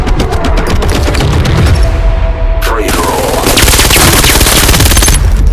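Rapid gunfire from an APC9 Pro submachine gun in the VR shooter Vail VR, a loud, dense burst of fast shots that pauses briefly before resuming, with a voice speaking under the shooting.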